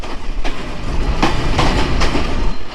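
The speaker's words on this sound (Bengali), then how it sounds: "চিলাহাটি এক্সপ্রেস ট্রেন এখন জয়পুরহাটের রেলওয়ে স্টেশনে এক নং প্ল্যাটফর্মের এক নং লাইনে প্রবেশ করলো" The Chilahati Express pulls into Joypurhat railway station with loud, rhythmic clickety-clack from the wheels over rail joints, a few sharp clanks standing out against a continuous rumbling roll.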